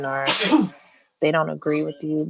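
A single sharp sneeze bursts out close by, loud and breathy, and talking comes before and after it.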